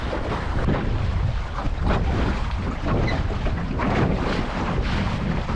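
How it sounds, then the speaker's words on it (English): Strong wind gusting across the microphone aboard a lugger sailboat on a lake, a loud continuous buffeting roar with rushing air and faint water noise, close and unbroken throughout, no voices. "Oh, we've had that flurry of wind."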